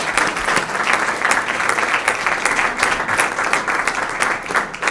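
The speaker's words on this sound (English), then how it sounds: "So a round of applause for our panel." Steady audience applause at a women in sports panel discussion, many hands clapping together in a dense, even wash that holds at a constant level throughout.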